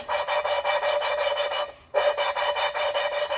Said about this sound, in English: You can hear that grind. That's what we want.